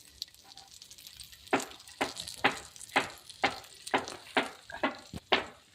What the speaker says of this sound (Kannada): ಫ್ರೈ ಬಂದು ಈಚೆ ಒಲೆ ಇಟ್ಕೊಂಡು ಮಾಡ್ತಾಯಿದ್ದೀವಿ